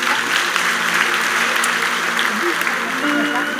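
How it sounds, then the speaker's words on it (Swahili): A church congregation applauds a man named Kevo during a sermon, producing loud, dense, continuous clapping that fills the room with crowd voices mixed in. "Na nataka tupigie Kevo makofi mazuri."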